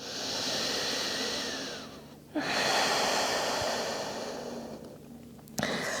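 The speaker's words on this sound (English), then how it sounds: "Inhale and exhale." Slow, deep breaths drawn in and let out during a post-run yoga cool-down, a long airy inhale then a breathy exhale, close and steady with no talking.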